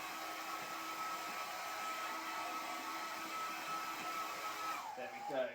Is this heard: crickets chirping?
no